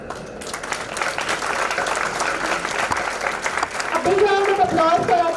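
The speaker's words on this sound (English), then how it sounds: "Applause for our chief guests, boys and girls, ladies and gentlemen." Audience at an international management conference applauding chief guests, dense clapping that swells and stays steady, with a voice speaking over it toward the end.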